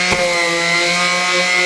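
A small Harbor Freight Warrior power tool roughens a carbon fiber part, giving a loud, steady high-pitched whine with a grinding rasp and one brief scrape at the start.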